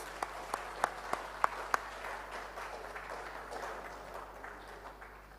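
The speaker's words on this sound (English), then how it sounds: "Ladies and gentlemen, another big round of applause, please." Applause at a government town hall meeting and results fair: a few sharp, distinct claps at the start swell into a soft, continuous patter of clapping, fairly faint and distant.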